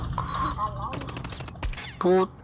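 Gunfire in the mobile shooter game Call of Duty Mobile, with short bursts and single loud shots mixed with a voice talking excitedly over the game sounds.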